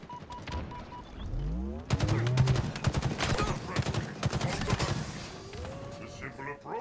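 Rapid bursts of automatic gunfire crackle in a Halo Infinite match, a quick rhythmic stream of shots lasting several seconds amid game effects, with a voice talking over it.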